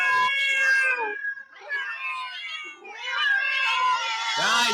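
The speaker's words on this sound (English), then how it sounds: "I think he's like playing some cat audio." A cat meowing from a played recording, a run of loud, drawn-out meows with rising and falling pitch across the whole stretch, close and clear with no talk.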